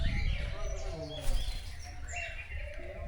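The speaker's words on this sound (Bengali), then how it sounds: "এগুলা বাইরের দেশের পাখি, বাট বাংলাদেশে এগুলা খাঁচায় পালা হয়।" Caged exotic birds kept as pets, scattered chirps and short calls overlapping near and far against a low rumbling background, with no clear talk.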